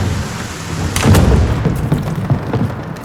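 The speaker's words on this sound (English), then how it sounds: "Let's start with a rainy, thunderous Monday night." Rain and thunder on a stormy night: steady, loud rainfall with a deep rumble of thunder building near the middle and crackling drops continuing through the rest, with no voices.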